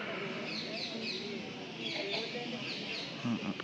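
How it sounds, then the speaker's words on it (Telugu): Sparrows chirp in short, scattered bursts across a quiet Shiva temple compound at Alampur, the birds some distance off over a steady low background hush. "ఆ పిచ్చుకల సౌండ్ ఒకటే వినిపిస్తుంది"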